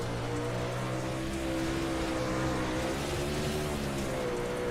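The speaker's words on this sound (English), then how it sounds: "You can hear him down the rev limiter." A dirt race car in a racing game roars continuously, its engine buzzing with a stuttering rev-limiter rasp and rising pitch, loud and sustained throughout.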